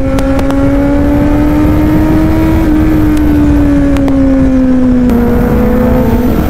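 Two Kawasaki-style sport motorcycles race on a road, their engines holding a loud, sustained high drone that rises and dips slightly as they run, with a few sharp clicks and no talking.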